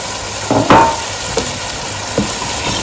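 A creamy chicken pasta sauce with chopped peppers being stirred in a pan, with a short loud spoon scrape and clack over a steady close sizzle, then a few lighter stir taps.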